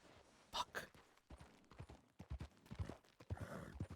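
Horse hooves clip-clop at an uneven walking pace in the video game Red Dead Redemption RP. The beats are soft and close and come in irregular clusters, with faint breathy sounds and a brief stir of noise near the end.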